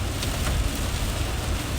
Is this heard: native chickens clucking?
no